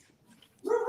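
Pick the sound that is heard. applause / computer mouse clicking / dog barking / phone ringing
dog barking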